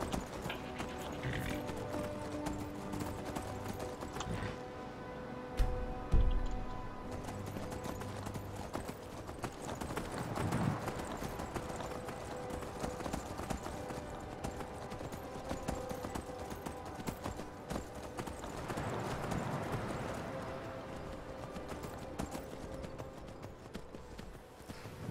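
Horse hooves clip-clop steadily in a video game, a continuous rhythmic patter of hoofbeats with a few louder knocks and brief whinny-like swells, heard alone without talk.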